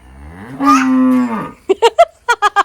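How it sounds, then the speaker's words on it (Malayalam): A cow at a family home gives one long, loud drawn-out moo, then a run of five short, sharp calls close by, with no talking. "അവിടെ നിന്ന് പശുവിന്റെ ഒച്ച കേട്ടോ"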